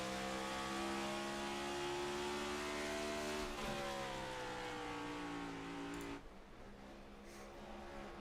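Race cars in the iRacing sim at the Homestead road course brake hard into a big corner, a loud sustained engine drone with dropping pitch as they slow and downshift, fading slightly near the end.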